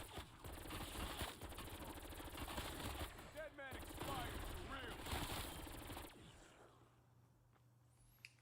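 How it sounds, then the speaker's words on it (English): A powerful gun firing in rapid bursts in a video game, dense loud rattling shots that run for several seconds and then stop, with a voice talking over the fire. "This gun's powerful, man."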